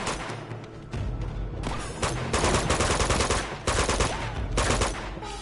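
Machine gun fire in the Uncharted 2 video game, loud rapid bursts of automatic gunfire that come in several long volleys with short gaps between them.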